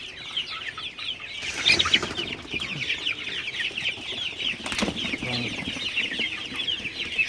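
A flock of chickens clucks and chatters continuously inside a raised-floor poultry shed, a busy, even murmur of many birds with a few brief louder bursts and no talking.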